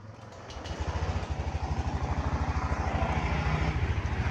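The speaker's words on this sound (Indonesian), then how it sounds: "Motor posisi hidup" A Honda Beat Deluxe scooter engine catches and settles into a fast, even idle, a close, rhythmic chugging putter that grows slightly louder after starting, heard alone at low level.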